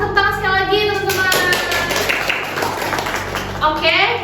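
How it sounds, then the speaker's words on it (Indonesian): An audience claps for a speaker at a university event. A voice speaks at the start and again at the end, and a burst of clapping fills the middle. "Kita kasih tepuk tangan sekali lagi teman-teman."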